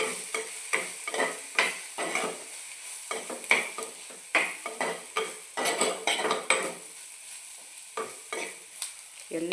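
Fish pieces being stirred into salai fish puttu in a pan, with repeated scraping and clinking strokes of a utensil against the metal and a light sizzle underneath, close and steady with short pauses.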